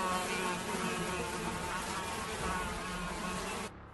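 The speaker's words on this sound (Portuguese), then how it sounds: "Hashem trouxe gafanhotos com um vento forte do leste." A swarm of locusts drones in a dense, steady buzz of many wings, loud and continuous, with no talk, before cutting out abruptly at the end.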